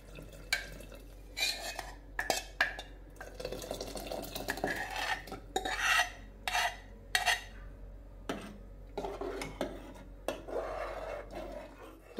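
Plain dal being mixed into a cooking pan, heard as repeated scraping and clinking of a spoon against the pan in short bursts, fairly close, with no talk.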